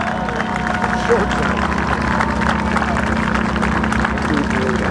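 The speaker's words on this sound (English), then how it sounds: "give him away and a big round of applause" Crowd applause for pilot John Mohr at an air show, a steady wash of clapping and cheering that holds for the whole stretch under a continuous low engine drone, with a voice faintly audible in the mix.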